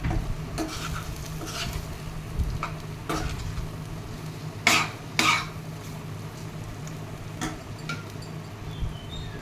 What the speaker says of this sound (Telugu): ములక్కాయ ముక్కల్ని చక్కగా కదిలించేసి